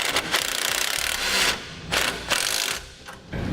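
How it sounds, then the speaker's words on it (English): A wrench and socket ratchet tighten a Nylock nut on a tow base plate bolt, giving close, rapid clicking bursts separated by short pauses as the tool is swung back and forth. "tighten it down using a 7/16 wrench and socket"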